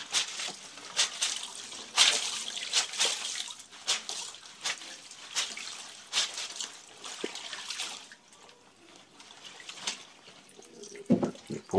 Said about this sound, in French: Je frotte le savon ici.